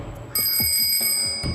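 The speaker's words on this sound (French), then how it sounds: "C'est une sonnette, vas-y, essaye-la." A bicycle bell rings several times in quick succession, bright sustained tones with short metallic strikes, loud and close.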